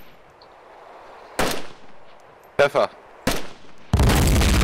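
Gunshots in the video game DayZ crack out as four separate sharp reports spaced over a few seconds, the last a longer, denser burst; a voice briefly speaks between them.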